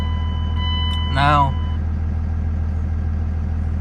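The diesel Cummins engine of a 2002 Dodge Ram 2500 pickup idles with a steady, low droning hum throughout, while someone briefly speaks over it and a short tonal beep sounds.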